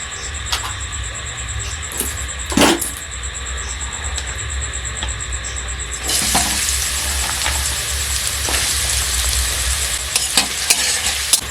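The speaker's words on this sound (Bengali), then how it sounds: "আলু ভাজা হয়ে গেছে।" Potatoes fry in oil in a wok with a continuous loud sizzle and a few metal scraping taps, the spitting hiss swelling noticeably stronger partway through.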